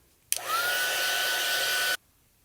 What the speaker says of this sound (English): I did take the heat tool and dry this again.